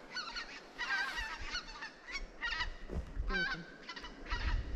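Several geese honk repeatedly in loud, overlapping bursts at mid distance. Their calls come in irregular clusters over a quiet, low background.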